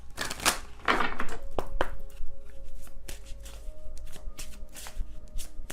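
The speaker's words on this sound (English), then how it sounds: "I'm using my Secret Moon Oracle deck here." Close, crisp riffling and flapping of a Secret Moon Oracle card deck being shuffled by hand, in quick repeated bursts throughout.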